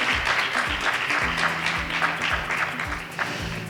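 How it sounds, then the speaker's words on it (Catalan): A crowd at a Falles celebration in Massamagrell applauds the mayor with loud, close, continuous clapping. Rhythmic low thuds from music or drums pulse steadily underneath. "Un aplaudiment més fort, per favor"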